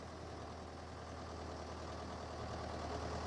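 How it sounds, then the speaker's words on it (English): A diesel engine idles and rumbles steadily at moderate level throughout, a low mechanical drone with a faint knocking texture, as the Thomas and Friends diesel Diesel tries to shunt the engine Emily in an animated railway scene. "Diesel is trying to shunt Emily out of the way."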